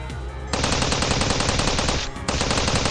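Rapid, sustained automatic gunfire from the Steins;Gate 0 game, a loud, dense burst lasting a couple of seconds, then a brief break before it starts again.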